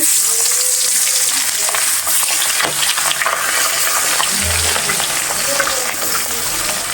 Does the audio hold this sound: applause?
no